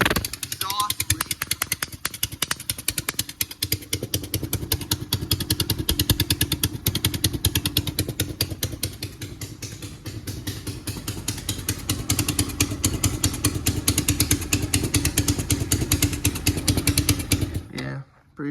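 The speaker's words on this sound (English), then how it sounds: "Looks like we got a pretty serious exhaust leak." A four-wheeler ATV engine with a serious exhaust leak, likely at the head pipe, runs close by with a loud, rapid ticking chatter. It stays steady for about seventeen seconds, then cuts off.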